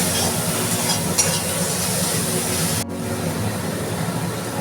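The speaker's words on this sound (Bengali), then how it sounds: "রসুন আদা পেঁয়াজ এটাকে কষিয়ে নেব" Garlic, ginger and onion fry with turmeric and salt in a pan, a loud continuous sizzle with stirring close by, cut by a brief pause before the frying resumes.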